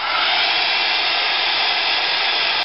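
A handheld hair dryer blows steadily on craft gel spread over a textured picture frame, a continuous loud, close airy whoosh with no break and no speech.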